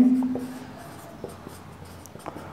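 A pen or marker scratches across a classroom board in short strokes and taps, quiet and close, with a brief hum at the start and faint room noise beneath.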